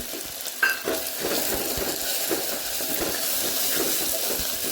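Onions and ginger fry in a pan for a ridge gourd curry, giving a steady broadband sizzle with repeated soft scraping stir strokes, close and moderately loud, with no talking.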